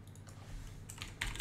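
Keys clatter on a computer keyboard in a short, close run of quiet taps over a low background hum.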